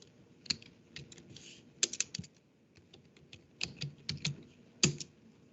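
Someone types a short command on a computer keyboard, producing a close series of light, irregular key clicks with brief pauses between bursts.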